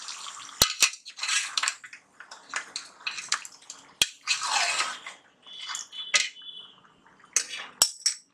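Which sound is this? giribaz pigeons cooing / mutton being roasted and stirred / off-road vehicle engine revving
mutton being roasted and stirred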